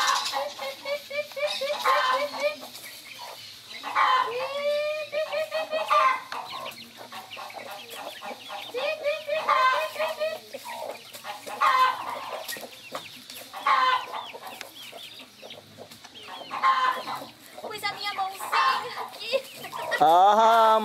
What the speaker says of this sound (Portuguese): E a galinha estava comendo a manga com os filhotinhos aqui.